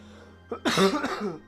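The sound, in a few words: coughing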